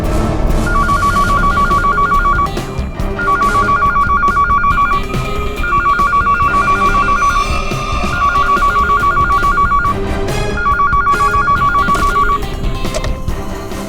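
A telephone rings in a crime drama, five loud repeated bursts of electronic ringing separated by short gaps, steady and close over a busy background, with no talk.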